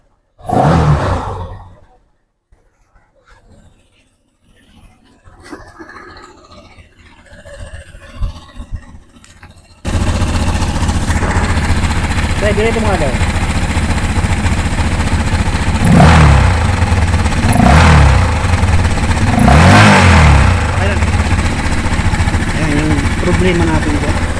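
An overhauled engine with a rattling, knocking fault runs loud and steady, revving in three sharp bursts near the end; the first stretch is quieter with faint talk and handling noise before the engine takes over.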